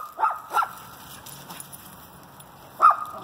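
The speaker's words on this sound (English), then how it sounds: "He's barking at something up there." A dog barks at something up a huge tree in an outdoor yard, three sharp barks, two close together at the start and one near the end, with quiet outdoor ambience between them.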